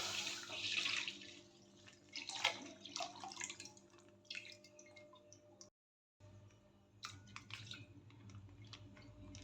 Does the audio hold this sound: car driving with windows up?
no